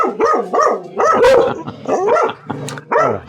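A dog barks close by in a rapid series of about six loud, sharp barks and yips over a few seconds, with no one talking.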